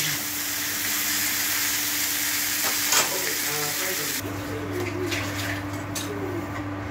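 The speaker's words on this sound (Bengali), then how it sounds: "এবার ডালে ফোড়ন দেওয়া দেখালাম" Spice tempering (phoron) crackles and sizzles loudly as it is poured into lentil dal, a steady dense hiss with a brief sharp flare midway, then dropping to a softer simmering fizz.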